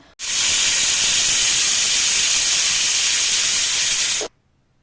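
A pressure cooker whistle blasts a loud, steady steam hiss for about four seconds, sharp and high, then cuts off abruptly into silence, while cooking carrot halwa.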